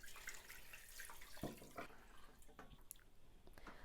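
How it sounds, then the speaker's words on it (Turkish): Water runs steadily into a pot as two litres are added for a milky Turkish chicken soup with carrots and black pepper, a continuous close splashing stream with no voices. "Tam tamına 2 litre su koydum"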